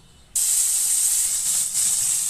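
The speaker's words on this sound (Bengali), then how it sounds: "তেল গরম হয়ে গেছে, মাছগুলো এবার দিয়ে দিচ্ছি।" Fish rubbed with salt and turmeric dropped into hot mustard oil in a wok, setting off a sudden loud, steady sizzle after a moment of near quiet. The sizzle holds strong to the end with no talking.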